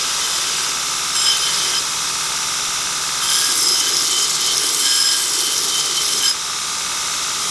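A belt grinder with a rubberized contact wheel whines steadily and loudly, its rasp growing harsher for a few seconds as it bevels the edge of a copper Mokume-style Cu-Mai billet.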